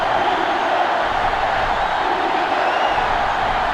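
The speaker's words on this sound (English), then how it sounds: "It's arguably the loudest crowd in the nation, and they are turning it up a notch." Stadium crowd roaring in the NCAA Football 2005 video game, a dense, loud, continuous wall of cheering and noise with no break.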